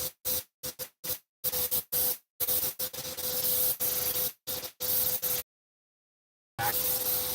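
Shears are ground on a 400-grit sharpener set to a 45-degree angle, giving short, hissing grinding passes that stop and start in quick bursts, then run longer strokes before a pause and one more pass.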